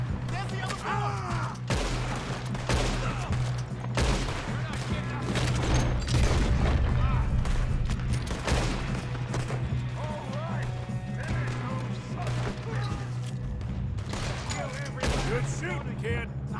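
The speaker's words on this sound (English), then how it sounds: "Good shooting, kid." Gunfire from a shootout in Red Dead Redemption 2 crackles as dense, rapid bursts over a steady rumble of a moving train, with shouting voices mixed in throughout.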